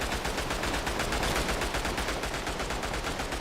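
Rapid automatic gunfire from a gun in the World War I shooter Tannenberg on the eastern front, a steady, loud stream of shots fired continuously throughout without pause.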